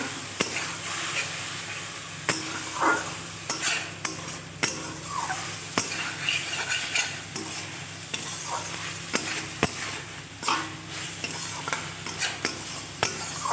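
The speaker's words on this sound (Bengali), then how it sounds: "এটা আর একটু নেড়ে চেড়েই নামিয়ে নেব।" Broccoli being stirred in a pan as the last of its water cooks off, a continuous close sizzle broken by frequent sharp clacks and scrapes of a utensil against the pan, no talking.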